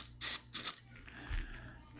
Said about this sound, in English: you want to spray your cleaner into your barrel